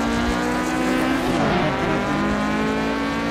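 A race car drifts in the Assetto Corsa driving game. The engine drones loud and close for the whole stretch, with tire squeal rising and falling midway.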